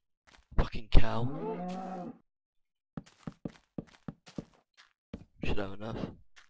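A cow moos in a video game, one long, loud, drawn-out call, followed by a quiet stretch of scattered soft clicks and thuds, then a brief vocal sound near the end.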